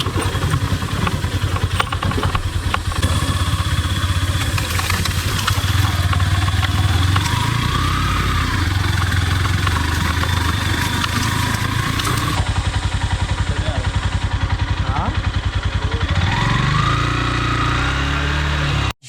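A motorcycle engine running loud and close on a muddy, rocky forest trail near a waterfall by Maredumilli, a steady chugging drone that revs and rises now and then, with clatter from the bike, alone without talk.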